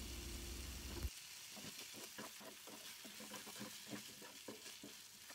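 Rice being sautéed and stirred in a pot, soft scraping and light sizzling taps in an uneven rhythm, quiet and close, after a brief low hum at the start.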